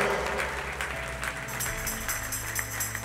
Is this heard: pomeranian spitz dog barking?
no